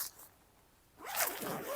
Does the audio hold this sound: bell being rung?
no